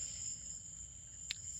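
Crickets chirp outdoors in a steady, continuous high trill, faint and distant over low background rumble, with no voices.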